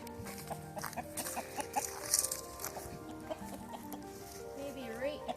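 Chickens cluck softly and repeatedly nearby, a busy murmur of short calls with occasional higher squawks, fairly faint overall.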